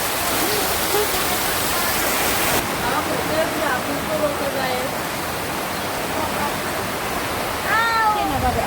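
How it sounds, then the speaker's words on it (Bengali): Heavy rain falls outside in a steady, loud, continuous hiss that fills the whole stretch, with a few faint voice-like calls rising briefly above it. "বৃষ্টি হচ্ছে দেখাই আমরা এখন বের হব আর বৃষ্টি কিভাবে হচ্ছে দেখেন"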